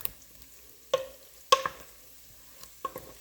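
Sofrito stirred into a pot of sauce for arroz con gandules with meatballs, giving a few soft, scattered scrapes and clinks of a spoon against the pot, with faint sizzle between.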